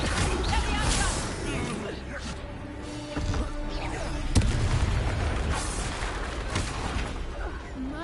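Expelliarmus spell cast in Hogwarts Legacy on PS5 during a loud, busy fight, with booming impacts and a sharp crack near the middle over constant rumbling effects and voices.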